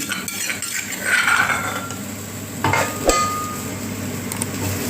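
Chilies and garlic being stir-fried in a little oil in a pan for a basil stir-fry with apple snails, a utensil clanking and scraping against the pan over a soft sizzle, close and without talk.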